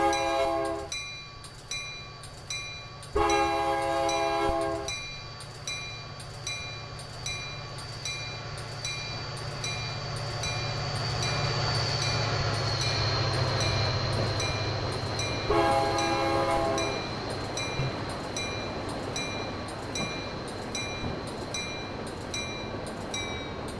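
An eastbound train in the Train Simulator 2016 game, on the Chicago-Aurora line, passes close by with two long horn blasts over a rising rumble and rail clatter, and a third horn blast comes as it rolls past.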